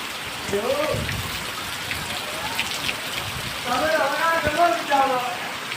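Heavy continuous monsoon rain drumming steadily on surfaces near a cattle shed, a dense close hiss with people talking through it.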